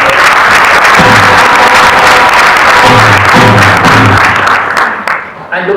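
An audience at a Diwali stamp dedication ceremony at the United Nations gives loud, sustained applause with voices mixed in, tapering off near the end.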